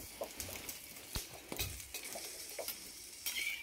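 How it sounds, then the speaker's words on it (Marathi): Oil poured over roasted green chilies sizzling in a pan, a quiet crackle with intermittent sharp scrapes and clinks of a utensil stirring, heard close. "मिरची छान भाजलेली आहे, त्याच्यावर मी तेल टाकून घेते।"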